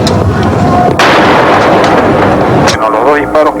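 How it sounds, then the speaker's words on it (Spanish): Two loud, close gunshots ring out as a warning during a hostage standoff with armed militants, each a sharp blast with a booming tail, followed by a brief stretch of voices. "los 2 disparos que han escuchado es una advertencia"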